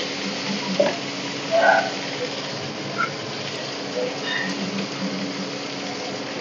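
Chilli paste and sauces sizzle in a hot pan for restaurant-style vegetable manchurian, a steady frying hiss with occasional stirring scrapes and small clinks, moderately loud and continuous.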